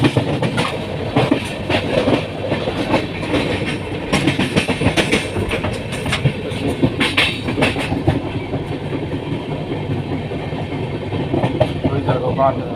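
Steady clickety-clack and rumble of a train fill a carriage on the way to Vellore, close and continuous, with voices talking intermittently over the noise.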